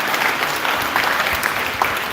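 Steady applause from a graduation audience at a primary school ceremony, a dense even clatter of many hands sustained throughout.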